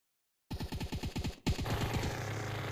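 A minigun fires at an outdoor shooting range in a rapid, continuous burst of dense gunfire. A brief break is followed by a sustained, roaring stream of shots.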